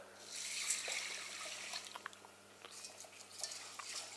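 Water being poured into a cooking pot of lentils, a steady broadband splashing and trickle with a few light clinks of the pot, fairly close and moderately quiet, with no talk over it.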